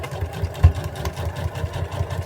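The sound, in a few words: sewing machine back stitching overall pants seam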